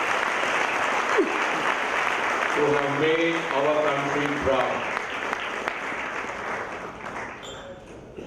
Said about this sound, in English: it's time for us to put a huge round of applause to this wonderful young women